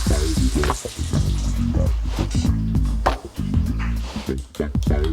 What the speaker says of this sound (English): I'm going to run this faucet for a bit, run the faucet upstairs, just make sure I get as much water out of the pipe as possible